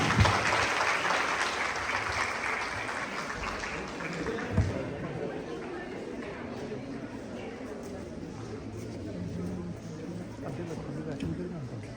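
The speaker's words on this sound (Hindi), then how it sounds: "ताली बजाएगा बच्चों के लिए।" An audience claps for schoolchildren at a voter awareness day program at a college, a long steady wash of many hands with a voice speaking over it throughout.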